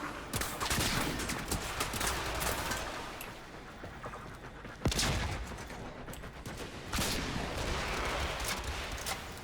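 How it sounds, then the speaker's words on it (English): A cannon-mode weapon firing repeatedly in the Warframe shooter game, dense bursts of booming shots and blasts in rapid succession, loud and continuous with brief pauses. "that cannon mode will send them flying quite a bit"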